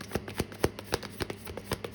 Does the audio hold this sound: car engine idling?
no